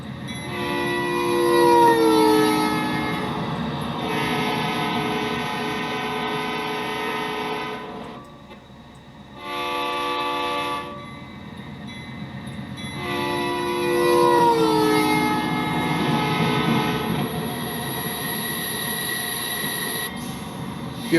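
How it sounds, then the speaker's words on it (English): A train rumbles past steadily for a long stretch in the game Train Simulator, with sustained horn blasts, squealing wheels and a brief dip in the noise midway. "go ahead and wait for the train to go by."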